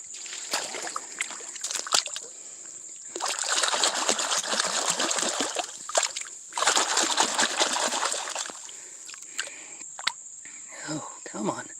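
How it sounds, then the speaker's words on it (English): Water splashes and trickles in two sustained bursts while a fossil coral rock is rinsed outdoors during geode hunting, close by, with a high steady insect drone throughout and a brief voice near the end. "Let's rinse this bad boy off."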